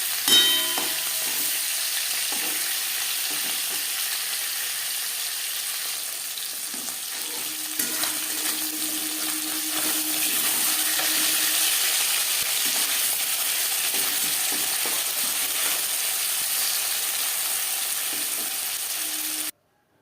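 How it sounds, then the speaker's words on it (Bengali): A dried red chilli and whole cumin seeds crackle and sizzle in oil left from frying rui fish, a loud, continuous fizzing hiss that runs unbroken until it cuts off abruptly at the end. "মাছ ভেজে নেওয়া তেলে ফোড়নে দিয়ে দিলাম একটা শুকনো লঙ্কা, ছোট 1 চামচ গোটা জিরে"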